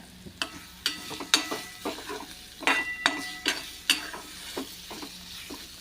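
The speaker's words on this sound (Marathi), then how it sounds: "मस्तपैकी लसणाचा असा खमंग वास दरवळत आहे छानपैकी आपण मंद गॅसवरती परतून घेऊया" Garlic sautés gently in oil over low heat for a red chili and fresh coconut chutney. A soft, steady sizzle runs beneath a series of sharp spoon scrapes and stirring clinks, close up and without talk.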